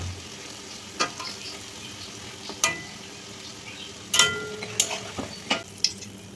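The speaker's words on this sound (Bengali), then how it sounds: "হালকা আঁচে আমি এগুলোকে এপিড ওপিড করে লাল লাল করে ভেজে নিচ্ছি।" Homemade pastry pieces frying gently in oil on low heat, a quiet continuous sizzle with scattered crisp clinks and pops of a utensil, heard up close without voices.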